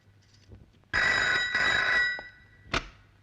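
A telephone bell rings loudly in two long bursts, then a short third burst, in a quiet room in a Hindi film scene.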